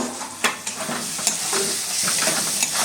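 Spice paste for a winter duck curry sizzles steadily in a pan with salt added, while a spoon scrapes and stirs in sharp, irregular strokes close up, with no talking.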